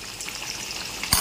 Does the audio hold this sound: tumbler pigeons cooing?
no